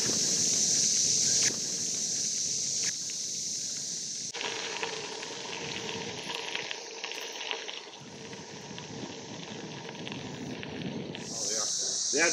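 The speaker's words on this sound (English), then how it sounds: "It's pretty cool hearing the cicadas sing to you as you ride along." Cicadas singing beside a rural bike trail in Missouri, a loud, continuous buzzing drone that swells and fades, with someone talking over it while riding.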